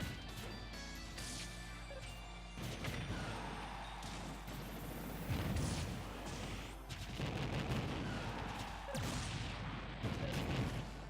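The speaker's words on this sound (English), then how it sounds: "the bomb from the Morph Ball!" A Samus Morph Ball bomb blows up in Super Smash Bros. tournament play, sharp percussive blasts and crashes standing out amid crowd noise and a low steady hum.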